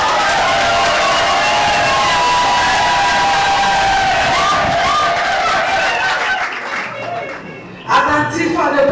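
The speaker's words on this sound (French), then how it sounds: "Applaudissez très fort." Wedding guests at a town hall ceremony cheer and clap loudly in a dense, sustained roar of crowd noise with shouts, which fades out near the end.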